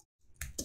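Two quick keystroke clicks on a computer keyboard while Go code for a port scanner is typed, close and crisp, with no talking.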